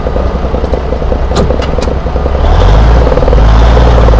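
A fire truck drives along while the driver double clutches, its engine droning loudly and close before climbing into a heavier, deeper roar as it pulls ahead.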